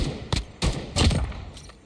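Several bursts of rifle fire in Call of Duty Mobile, with three or four sharp, loud shots close by and brief gaps of quiet between them.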